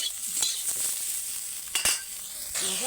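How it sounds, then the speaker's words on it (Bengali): Steady oily sizzling of potatoes and beans frying in a pan, with a few sharper crackles and stirring scrapes, continuous throughout and close by. "এবার আলু আর সিমটা ভেজে নেবো"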